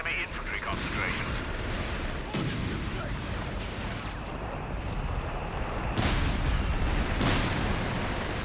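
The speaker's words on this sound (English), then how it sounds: "So I activated Designate Artillery Overwatch to prevent a push there." Artillery barrage in Company of Heroes 3, a dense, continuous wash of booms and shell blasts at steady high loudness, with talk faintly mixed in.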